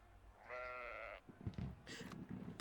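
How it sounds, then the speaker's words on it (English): A single drawn-out sheep bleat, wavering and fairly clear, followed by scattered rustling and shuffling noises nearby. "Oh, because there's a sheep."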